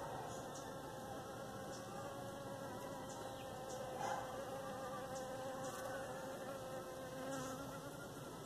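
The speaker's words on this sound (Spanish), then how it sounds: "Ya regresó la abeja. Está muy grande la abeja." A large bee buzzes around big lily flowers in a garden: a faint, continuous insect drone that swells slightly now and then, heard alone with no talking.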